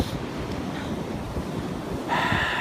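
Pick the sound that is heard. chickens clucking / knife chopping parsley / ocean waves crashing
ocean waves crashing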